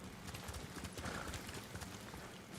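Horse hooves clip-clopping in the video game Ghost of Tsushima, a steady run of soft hoofbeats over a low ambient bed, ending with a sharp brief bright click.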